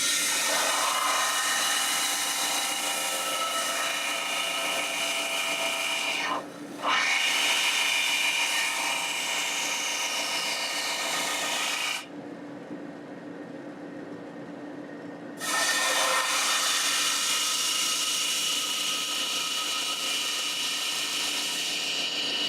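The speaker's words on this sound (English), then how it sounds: "use my trim saw to cut a chunk of this off" A lapidary trim saw slices through a chunk of agate rock, a steady loud grinding whine running continuously with two brief dips, one short and one a few seconds long, before resuming.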